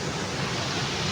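A village stream runs steadily close by, a dense, even rush of water with no breaks and no voices over it.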